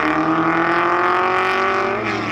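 A 1962 Ferrari and a 1958 Porsche race car battle at the Sonoma Speed Festival, their engines a loud, close, continuous roar that holds steady throughout.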